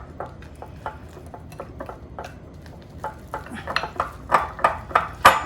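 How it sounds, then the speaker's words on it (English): A spoon or whisk stirring cobbler batter of milk and egg in a bowl, giving a run of close scraping, clinking strokes that grow louder and sharper toward the end, with no talking. "all you're going to do is stir this until it's just moistened"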